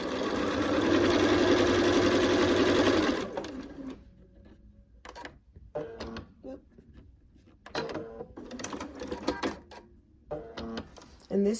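A sewing machine stitches a Red Cross Illusion quilt block, a steady loud run of needle strokes for about three seconds, then stops. Short, lighter bursts of fabric handling and machine clatter follow amid quieter pauses.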